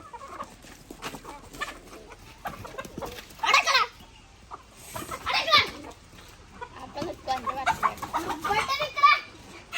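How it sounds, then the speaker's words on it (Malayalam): A black rooster clucks and calls in bursts at a home farm, several loud calls standing out over background chatter and children's voices. "പൂവന് ഉണ്ടോ കരിങ്കോയ പൂവനാണത്"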